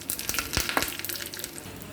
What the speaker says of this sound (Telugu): ఆవాలు చిటపటలాడినాక కొంచెం ఇంగు వేసుకోండి, అలాగే కరివేపాకు.